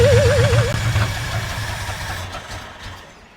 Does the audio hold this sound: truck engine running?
yes